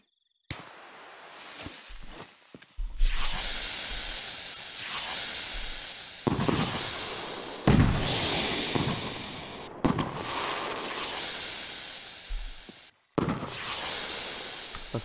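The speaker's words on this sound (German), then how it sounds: "diese Bomber-Raketen hier. Machen wir jetzt alle einfach mal nacheinander, die wir hier verbinden." Bomber rockets in Fireworks Mania launch one after another, each with a sharp whooshing hiss and crackling burst, a steady string of loud firework blasts across the whole stretch with brief gaps between them.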